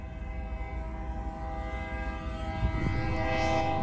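A train passes up close in Osawatomie, Kansas, its loud sustained horn blaring over the heavy rumble of the rail cars, growing stronger toward the end.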